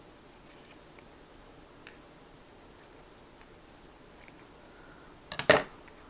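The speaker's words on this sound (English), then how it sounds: "So I'm just going to trim off just the rough ends here" Scissors trim the rough yarn ends of crochet skirt ties: a few faint, scattered snips, then a brief cluster of louder, close cuts near the end.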